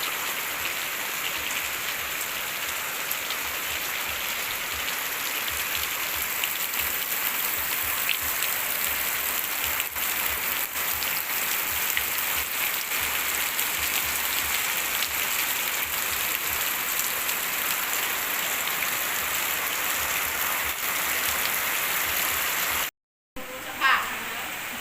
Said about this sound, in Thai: เบิ่งฝนตกพี่น้องแห้งบ่แห้งฝนตกทุกมือเลย